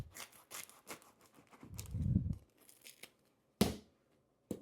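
A knife saws through a baguette on a kitchen counter, a run of crackly crust-tearing strokes building to a louder rasp near the middle, then a pause and two sharp, separate crunches as the piece comes off.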